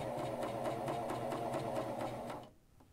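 A Janome CoverPro 1000CPX coverstitch machine sews fabric with a steady, fast mechanical whirr and rapid needle clatter, close and loud. It runs continuously, then stops abruptly near the end, leaving a brief quiet.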